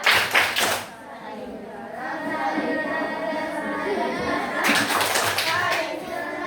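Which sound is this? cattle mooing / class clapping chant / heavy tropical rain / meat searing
class clapping chant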